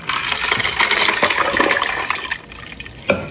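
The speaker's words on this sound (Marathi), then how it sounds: "आता ह्याच्यात आपण पाणी टाकूया." Water splashes steadily into churning cream while butter is made from cow's milk for ghee, a continuous close pouring and sloshing that tapers off near the end.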